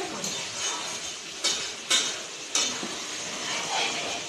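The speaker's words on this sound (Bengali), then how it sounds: "আমি এখন এসে একটু নাড়া দেব" A spoon stirs chicken curry in a cooking pot with a soft sizzle underneath, punctuated by three or four sharp clinks of metal against the pot rim, no voices.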